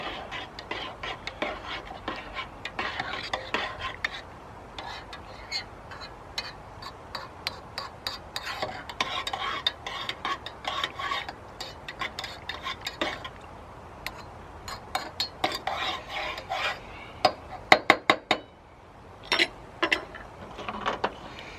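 Cream being stirred into a cup of tea, with a steady run of small scraping and clinking strokes that sharpen into a few distinct clinks near the end; no one speaks.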